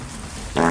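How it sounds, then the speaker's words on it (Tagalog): A single short, low, buzzy fart breaks out near the end of a tense, quiet moment as a group of children sneak along a path trying to stay hidden, loud against faint background rustle. "May umutot."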